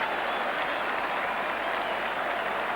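A cricket crowd at Headingley applauds a wicket during an England v Australia World Cup semi-final in 1975, a dense, steady roar of clapping and cheering that holds evenly throughout, broad and distant.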